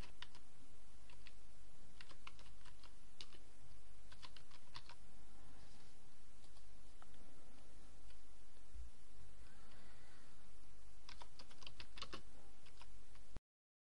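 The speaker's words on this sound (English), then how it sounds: "let's type in a post" Typing on a computer keyboard to write a blog post, with bursts of rapid key clicks separated by short pauses over a steady low hum, close and moderately quiet, no talking.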